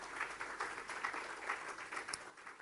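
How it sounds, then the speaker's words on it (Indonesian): Distant applause from a crowd, steady and soft, with scattered claps blending into a continuous wash. "Berikan tepuk tangan nih buat Tuhan Yesus."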